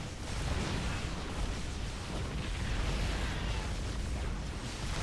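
Siege tanks firing in a StarCraft 2 battle, heard as a continuous roar of blended explosions and booms, loud and steady throughout with no distinct pauses.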